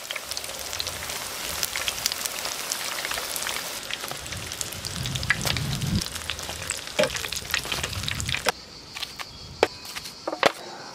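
Eggplant frying in a pan for Sicilian caponata, a steady crackling sizzle with scattered pops and a few stirring scrapes, close and continuous, thinning to sparser spits near the end.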